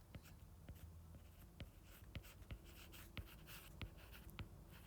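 Pen strokes on paper while a math word problem about field goals and free throws is worked out, a steady run of short scratchy marks and taps with faint background hiss, quiet and close.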